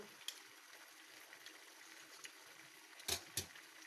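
Pork chops fry in a pan with a faint, steady sizzle, broken near the end by a couple of short, louder spatters.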